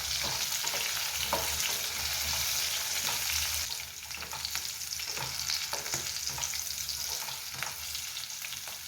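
Green chilies fry in oil in a pan for chutney, a steady bright sizzle that softens partway through as a utensil stirs and scrapes, close up with no talking.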